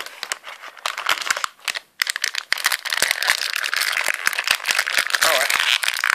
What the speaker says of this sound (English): use the world's bluntest scissors to cut this open